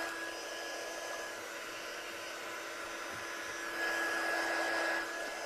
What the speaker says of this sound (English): So my gun's nice and hot now, so I'm just going to pop it onto my design, and then we'll get that heat emboss to change